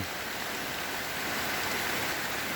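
Rain falling outside a small hut, a steady broadband hiss of drops, even and continuous with no voices.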